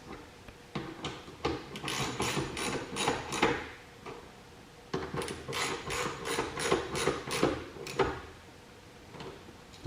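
A ratchet wrench tightening nuts that hold a plastic shroud on an LS XR3135 tractor, two bursts of rapid clicking separated by a short pause, close and fairly quiet.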